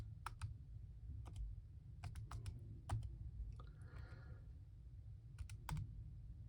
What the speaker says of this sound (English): I could type in my equation if I want. It just takes a long time for me to type these in.